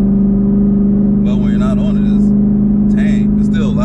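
A Camaro ZL1 with an H-pipe catback exhaust gives off a deep, steady, loud engine drone that runs the whole time. Someone talks over it.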